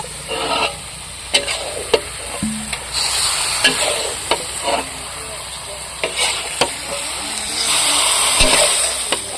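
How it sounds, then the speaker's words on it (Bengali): Chicken pieces for a village-style egg chicken biryani stirred in spice paste, with a steady loud sizzle and frying hiss under sharp scraping strokes of a spoon against the pot, close by. "মশলাটা কষানো হয়ে গেছে এখন মাংসটা দিয়ে দেবো"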